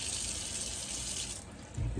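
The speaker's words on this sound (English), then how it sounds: "and water is running, hot water." Hot and cold mixer tap running water into a sink, a steady close hiss of flowing water that softens briefly near the end before a low thump.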